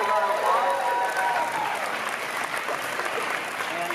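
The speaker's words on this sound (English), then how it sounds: "Give them a big round of applause." A keynote audience breaks into steady, moderately loud applause that fills the room for about four seconds with no break.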